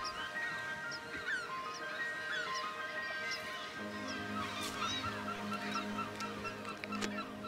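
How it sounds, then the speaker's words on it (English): Crowded seabird colony on the Isle of May, Scotland, where puffins nest, with many birds calling at once in a continuous overlapping chorus of honks and squawks, some near and some far, and no talk. "Ooh, so many birds."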